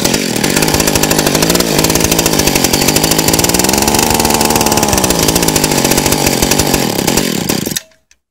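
A Stihl 020AV chainsaw with an untuned carburetor runs loudly and close, a steady buzzing two-stroke drone with slight pitch wavering, then cuts off abruptly near the end.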